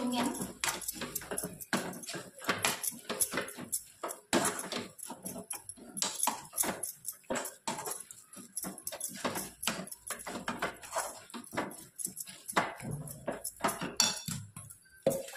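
Coconut ladoo mixture with raisins being stirred in a pan, a busy run of close scraping and clinking of a spoon against the metal pan.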